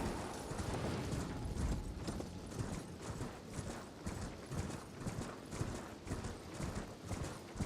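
Horse hooves clip-clop in a steady, rapid galloping rhythm as a rider travels north across the open world of Elden Ring, loud and continuous over a wind-like ambient bed, with no talking.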